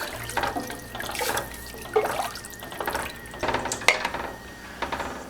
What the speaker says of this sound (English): We add more stock. That's about 4 or 5 liters of water, stock.